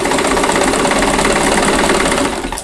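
A sewing machine stitches quilt blocks for a nine-patch chain quilt, giving a steady close motor whir with fast, even needle ticking that runs without a break and eases off at the end.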